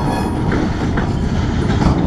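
A train rolls past close by on the rails with a loud, continuous rumble and rattle, faint wheel squeals rising above the steady roar.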